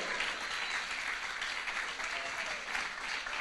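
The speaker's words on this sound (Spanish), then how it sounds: "Denle un aplauso al Señor." Church congregation applauding during a Spanish-language worship service, a steady, fairly soft wash of clapping that holds evenly for a few seconds.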